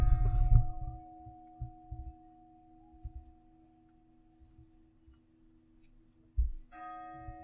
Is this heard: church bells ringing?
yes